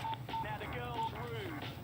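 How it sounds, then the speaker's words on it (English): Telephone tones from a Doctor Who episode set around the 1980s, a few short steady beeps like dialing tones heard under a reacting viewer's ongoing talk and background sound. "Is that a phone?"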